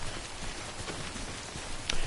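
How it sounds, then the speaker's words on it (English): Steady rain in the video game Death Stranding, a dense continuous hiss of falling drops with a faint brief patter near the end. "And it's raining again. When is it not raining in this game?"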